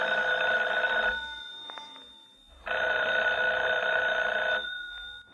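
An old-fashioned telephone bell rings in two long bursts with a pause between them, fairly clear in a quiet room scene of a 1950 suspense radio drama, with no one speaking over it.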